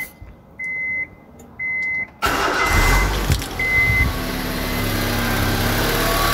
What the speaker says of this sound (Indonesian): Coba kita starter. Harus nyala, kalau nggak nyala berarti ada yang salah.